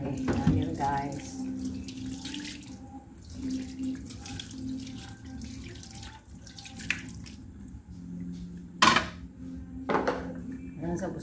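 Tap water runs steadily into a sink at home, a continuous splashing wash with occasional drips and light clinks of dishes, close and fairly loud throughout.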